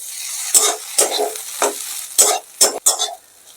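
Egg puff filling with tomato sauce is stirred in a pan, several distinct scraping stirs over a soft background sizzle, close and clear.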